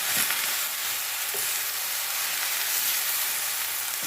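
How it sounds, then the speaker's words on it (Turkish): Tomatoes sizzle steadily in a hot frying pan over medium heat for a purslane dish while a utensil stirs them a couple of times. "domatesi de üzerine ekledikten sonra onu da bir iki karıştırdım"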